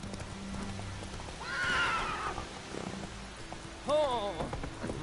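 Roach, the horse in The Witcher 3, clip-clops along in game, joined by two distinct whinnies, one drawn out early and a shorter one near the end, over a soft background bed.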